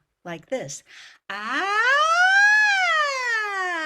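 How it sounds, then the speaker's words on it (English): A singer performs an M1 siren belting vocal exercise on the vowel ah, a single sustained tone that sweeps upward in pitch and then eases down, following a brief bit of speech. "The first belting exercise I'd like to share with you is the M1 siren on the vowel ah"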